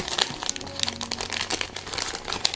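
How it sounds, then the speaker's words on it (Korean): Plastic film crinkling and crackling as it is rolled into tubes for a DIY money cake, a close run of irregular rustles and small crackles with no talk. "이 비닐을 가지고 이제 동글동글 말아서"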